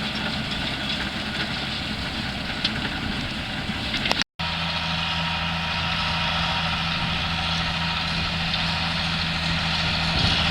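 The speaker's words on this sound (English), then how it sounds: "the old tractor sound nice, because some of these old tractors do" An old tractor engine runs steadily in a field while land is broken down ready for drilling wheat, a loud continuous low idle-like drone with a brief dropout midway, no talking.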